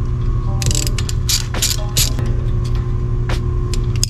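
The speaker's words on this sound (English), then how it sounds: "I'm just going to be taking up to two 10 mils holding in the ABS sensor." Ratchet wrench loosening the two 10 mm bolts holding the ABS sensor on a Honda CR-V during ball joint work, a series of quick, close clicking bursts over a steady low hum, with no talk.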